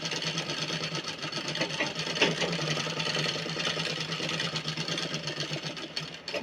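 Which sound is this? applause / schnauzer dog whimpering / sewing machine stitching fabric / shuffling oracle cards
sewing machine stitching fabric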